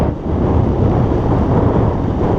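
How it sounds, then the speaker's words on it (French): Steady low rumbling wind buffeting a GoPro Hero 3 microphone while cycling, continuous and fairly loud throughout, with no voices. "Il y a un peu de vent."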